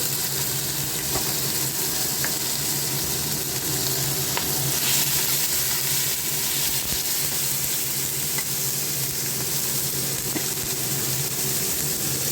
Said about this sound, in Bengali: গরম হয়ে গেল ফোড়নটা। এবার আমি তার মধ্যে টমেটো কুচিটা দিয়ে দিচ্ছি।